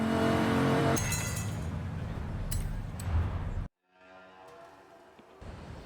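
A Porsche Carrera engine in the racing game Forza Horizon 5 drones loudly and steadily, then cuts off abruptly and gives way to a quieter background hum.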